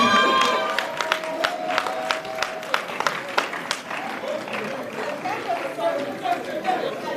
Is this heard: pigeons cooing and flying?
no